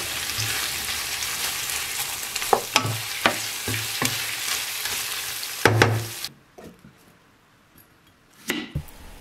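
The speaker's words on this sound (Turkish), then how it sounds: "İlave ettikten sonra 1 dakika kadar daha salça ile birlikte kavurdum." Tomato paste is sautéed in a pan for about a minute: a steady sizzle with sharp scraping stirs and utensil taps, then the sizzle drops away to near quiet before a final clatter.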